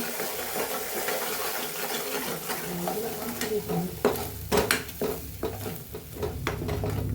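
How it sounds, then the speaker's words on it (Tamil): Almonds stirred in ghee in a pan for badam halwa: a steady close sizzle, with scraping spoon strokes that grow louder and more frequent in the second half. "இது எல்லாத்தையுமே நல்லா மிக்ஸ் பண்ணி விட்டுருவோம் நெய்யோட இந்த பாதாமை"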